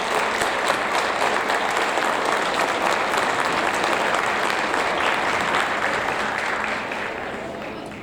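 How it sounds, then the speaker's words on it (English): Sustained audience applause at a 7th grade awards ceremony, dense and steady clapping from a large crowd that gradually fades toward the end. "let's give them all a round of applause."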